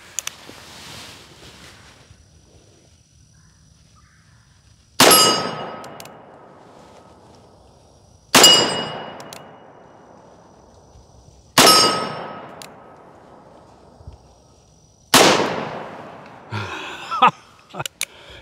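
A Taylors Gunfighter Defender .45 Colt single-action revolver fires five shots at targets, loud sharp reports spaced a few seconds apart, each ringing off with a metallic clang and decaying echo outdoors.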